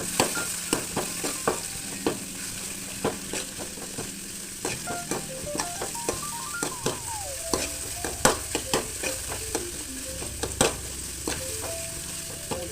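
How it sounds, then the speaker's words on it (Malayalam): Drumstick leaves stirred and fried in a pan, with a steady sizzle under regular clinks and scrapes of the spoon throughout, close and moderately loud, with no talking. "ഞാൻ ഇപ്പം മുരിങ്ങ കൊട്ടിക്കൊടുക്കാൻ മുരിങ്ങ കൊടുക്കുന്നുണ്ട് ഇരുന്ന് ഇളക്കി വേവിപ്പിക്കട്ടെ"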